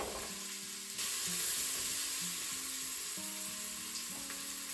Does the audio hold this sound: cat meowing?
no